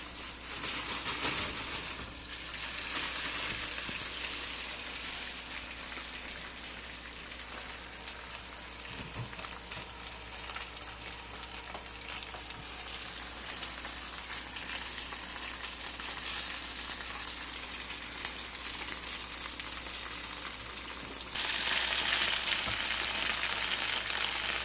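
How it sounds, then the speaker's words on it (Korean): Tofu frying in cooking oil in a pan, a steady close hiss and crackle of sizzling that continues throughout and swells louder near the end. "두부를 노릇하게 구워주세요."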